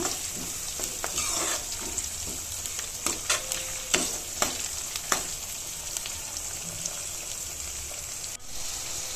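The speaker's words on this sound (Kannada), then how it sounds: "ಈಗ ಬಟಾಣಿ ಹಾಕ್ಕೊಳ್ಳೋಣ. ಬಟಾಣಿನೂ ಅಷ್ಟೇ ಫ್ರೈ ಆಗಬೇಕು." Green peas for vangibath fry with a constant sizzle in a pan, broken by repeated clacks and scrapes of a spatula that come close together, then ease into a steadier hiss.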